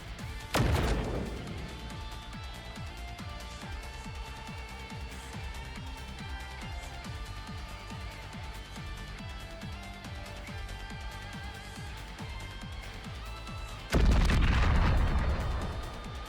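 A matter bomb explodes in NIKKE, with a sharp crashing boom at the start and another heavy blast near the end, both loud and close over continuous game music.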